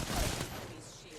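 A short, loud burst of gunfire in a shooter video game hits hard at the start and then trails off into a fading, noisy tail within about a second.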